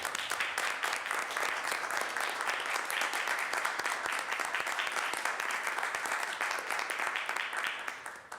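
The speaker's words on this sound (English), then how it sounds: "I would really just like to offer a round of applause for Henry Santana" A round of applause fills the Boston City Council chamber during a 2021 session, sustained crowded clapping at an even level for several seconds before trailing off at the end.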